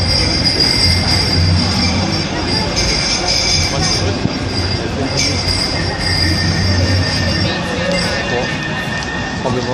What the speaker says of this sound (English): Now approaching Etihad Campus via Piccadilly tram 3041.